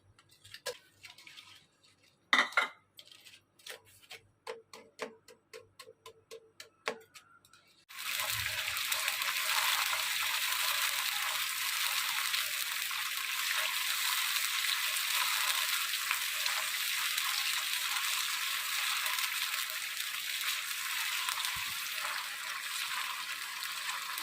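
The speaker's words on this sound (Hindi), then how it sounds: "मसाला हमारा फ्राई हो रहा है। लहसुन अदरक जो मैंने इसमें डाला था, इसमें साथ प्याज भी शामिल है।" Garlic-ginger paste and onion hit hot oil with a sudden loud, steady sizzle that runs continuously after a few scattered clinks and taps at the start, with no talking.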